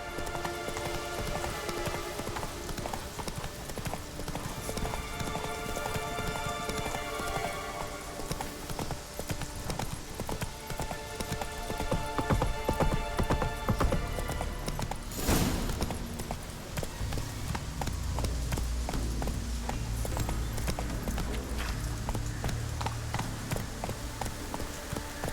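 Horse hooves clip-clopping at a steady gallop in the game The Witcher 3, a continuous close rhythmic pounding across the whole stretch with a brief sharp burst midway and a low rumble near the end.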